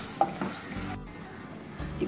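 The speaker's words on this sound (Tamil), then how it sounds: "ஒரு அரை ஸ்பூன் ஜீரகம், இது மொத்தத்தியும் அண்ணா சவக்க வறுத்து எடுத்துக்கலாம்." Cumin seeds and peanuts dry-roast in a pan, with a soft crackle and rustle as they are stirred, a brief pause near the middle, all close and fairly quiet with no voices.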